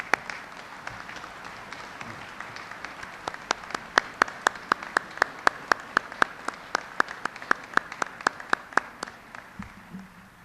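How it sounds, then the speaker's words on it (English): Sparse, sharp individual claps ring out through a fairly large outdoor ceremony honoring veterans at Arlington National Cemetery, coming as steady scattered hand claps over a quiet background rather than a full roaring ovation. "please join me in recognizing our veterans' national leadership with your applause"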